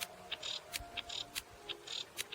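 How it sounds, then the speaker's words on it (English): A female cicada call comes as soft, short clicking chirps at a quick irregular rhythm, faint and spaced over a quiet background. "to sound like a female cicada,"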